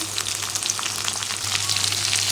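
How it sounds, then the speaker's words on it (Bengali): Potato pieces fry in hot oil in a pan for a Bengali jackfruit curry, giving a loud, continuous close sizzle with crackling and a few soft stirring scrapes. "আলুটাকে ভালো করে ভেজে নেবে।"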